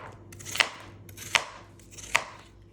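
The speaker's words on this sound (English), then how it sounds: "So let's start with by cutting the potatoes." Three evenly spaced knife chops through potatoes onto a cutting board, each a crisp thud with a short slicing lead-in, close and clear without speech.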